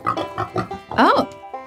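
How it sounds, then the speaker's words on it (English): A farm pig oinks in a string of short snorting grunts, then gives a longer rising-and-falling squeal, fairly close and clear, with a brief spoken exclamation at the start. "A sound that goes oink, oink, oink, oink, oink."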